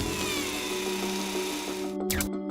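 Curiosity rover's drill boring a 1.6 centimeter shaft into Mars rock gives a steady mechanical whirring hum with a faint falling whine, then cuts off into brief clicks and a short burst near the end.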